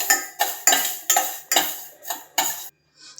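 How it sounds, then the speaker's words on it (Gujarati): Fenugreek seeds being dry-roasted in a pan over a low flame, with about seven sharp metallic scraping strokes of a spoon against the pan in a steady rhythm, close and fairly loud, ending in a brief silence. "આપણે ધીમા ગેસે બ્રાઉન થાય ત્યાં સુધી શેકી લઈશું।"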